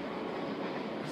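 Train in a station, a loud, dense rumbling roar with echo filling the whole moment steadily and close by.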